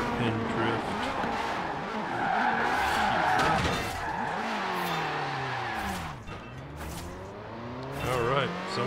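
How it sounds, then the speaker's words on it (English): A car in Forza Horizon 4 swings through a hairpin drift with screeching tire squeal over a revving engine whose pitch sweeps down and climbs again. A voice talks over the drift. "we can just do a hairpin drift"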